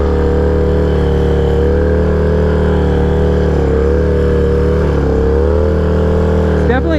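A Harley-Davidson motorcycle engine, Sportster or Dyna, runs steadily while riding on a street, a loud continuous low rumble with a faint rise in revs near the end and a brief higher whine.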